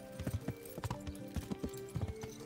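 Rhythmic clip-clop of horse hooves trotting on a hard surface in the video game Kingdom Come: Deliverance, steady and close, with faint background tones and no talking.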